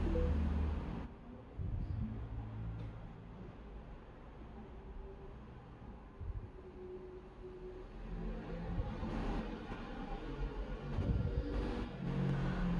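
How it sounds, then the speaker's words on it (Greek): Mercedes CLK W209 engine cranked by the starter and catching again after remote reactivation by a Target Track alarm and tracking system, a brief starter whir followed by a low idling rumble that swells and settles, heard close with no talking. "Μιζάρουμε και παίρνει μπρος ξανά κανονικά."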